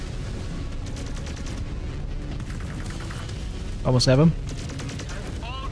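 Allied AI mechs trade fire in a MechWarrior battle, a steady rattle of distant gunfire under constant background noise, with a short louder burst of shots mid-clip and a voice speaking briefly over it.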